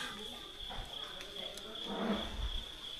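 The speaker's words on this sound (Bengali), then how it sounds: "ঝিঝি পোকার ডাক" Continuous high-pitched cricket chirping drones steadily in the background near Mawsmai Cave in Meghalaya, with soft low thumps and rustles nearby.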